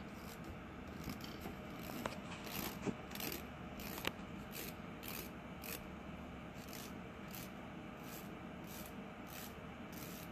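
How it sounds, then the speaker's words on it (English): A nail file rasps off the excess edge of a Jamberry nail wrap with gentle downward strokes, giving a close, steady series of short scratchy scrapes with no talking. "I'm going to gently file off the excess in a 90-degree angle, filing only downward."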